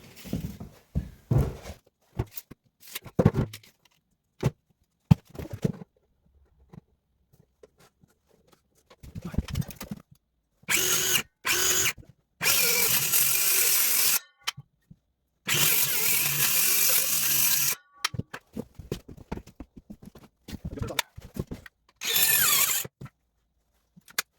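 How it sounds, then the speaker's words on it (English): A power drill backs screws out of metal ductwork. Several short, loud bursts of whirring alternate with quiet gaps, and scattered clicks and knocks from the work fall in between. "we're going to go ahead and cut these after I get the screws out."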